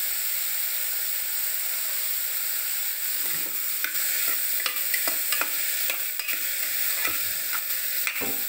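Bitter gourd pieces frying with turmeric and salt in a pan: a steady close sizzle with repeated sharp scrapes of a spatula stirring through the second half, no voices.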